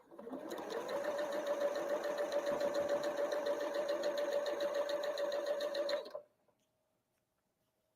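Sewing machine chain piecing quilt seams, running at a steady fast hum for about six seconds, loud and close, then stopping into near silence.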